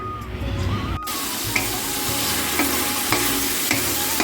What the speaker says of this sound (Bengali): এখন মাংসের মশলাটা কষাচ্ছি